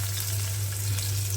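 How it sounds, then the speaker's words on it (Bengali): Onions and green chilies frying in hot oil for a Bangladeshi chepa shutki and kochur loti dish, a steady close sizzle with a low hum underneath, continuous and alone. "পেঁয়াজ আর কাঁচামরিচগুলো কিছুক্ষণ ভাজবো।"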